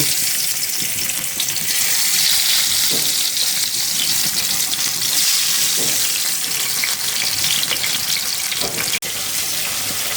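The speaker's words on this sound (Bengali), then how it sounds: "এখন আমি এই যে ফ্রাই প্যানটা বসাই দিছি এখানে আমি মাছগুলা ভাজতে দিয়ে দিব" Fish frying in a frying pan gives a steady, fairly loud sizzle and hiss that runs without a break, with a few faint clinks over it.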